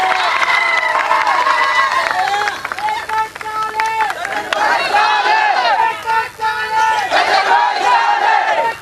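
A large crowd cheers, shouts and claps to welcome a guest at a political support rally in Rajpipla, loud and continuous, with voices and whistles mixed into the dense noise.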